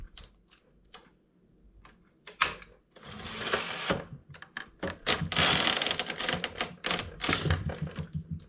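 A domestic knitting machine carriage is pushed across to knit a row, giving a rattling, clacking run that builds from scattered clicks into a dense mechanical clatter.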